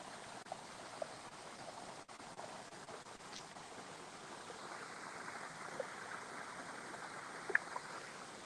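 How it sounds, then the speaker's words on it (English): A river flows somewhere below, a soft, steady rush of water that stays faint and distant the whole time, with a few small clicks and knocks nearby. "there's a river below where everything goes"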